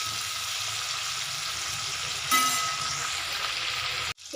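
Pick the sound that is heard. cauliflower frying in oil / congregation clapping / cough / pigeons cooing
cauliflower frying in oil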